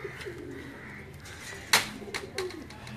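Lakha breed pigeons held in hand give soft, low cooing calls close by against a quiet background, with a few sharp handling noises in between.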